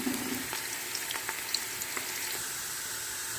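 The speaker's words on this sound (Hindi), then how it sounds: "प्याज हमारे ब्राउन हो रहे हैं।" Onions frying in a pan until brown, a steady close sizzle and crackle with faint bubbling pops throughout, no voices.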